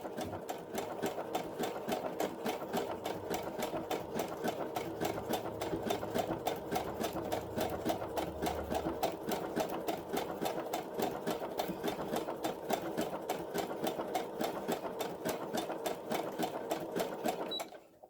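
A sewing machine runs steadily for about eighteen seconds as it stitches around the edge of a piece of cloth made from alphabet paper, giving a fast, even mechanical whir with no break in the rhythm.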